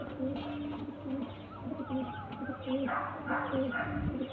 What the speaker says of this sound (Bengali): মাদা পায়রা এটা